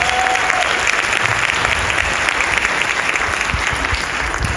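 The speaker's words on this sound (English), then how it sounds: "Give a round of applause for the Maldonados." Sustained audience applause welcoming the Maldonados for a testimonial at a metabolism event, a loud, dense, unbroken roar of clapping from start to finish.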